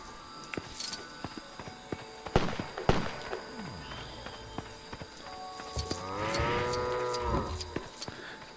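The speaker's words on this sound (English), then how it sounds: "Here we have the cow." Cartoonish cow moos in the Lego Jurassic World video game, a clear harmonic low call near the end rising over scattered game clicks, thumps and ambient effects, with no talking.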